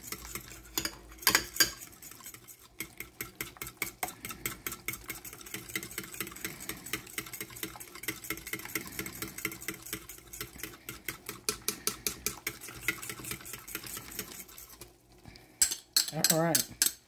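Eggs being tempered with béchamel sauce for a lighter Greek moussaka, whisked in a bowl with a fast, steady metallic clicking of utensil against dish that runs almost without pause and ends in a few louder scrapes.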